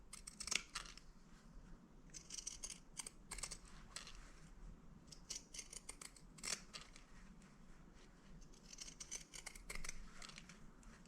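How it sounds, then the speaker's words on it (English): Pinking shears trim a freshly sewn, curved fabric seam at a shirt neckline, giving quiet, crisp snips in irregular clusters of short bursts against a soft background. "I want to trim this side, either clip it because it's curved"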